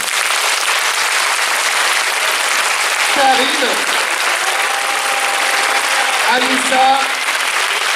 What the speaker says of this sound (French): est-ce que vous pouvez applaudir Lisa bien fort ?